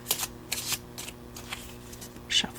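Tarot cards being shuffled in a quiet ASMR setting, several crisp riffling bursts in quick succession, close and clear.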